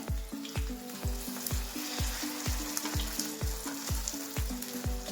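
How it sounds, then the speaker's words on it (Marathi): Mango malpua batter cakes frying in hot oil, turned to cook the second side: a steady close crackling sizzle with a regular series of soft low thumps running underneath, no voices. "आता आपण ही पलटून घेऊ आणि दुसऱ्या साईडनं पण छान असं तळून घ्यायचंय"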